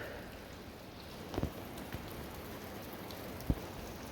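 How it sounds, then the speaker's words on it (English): Heavy rain falling outside a camp, a steady soft hiss of drops on a surface heard from under cover, with a few sharper taps and knocks standing out faintly. "Just pissing rain out there."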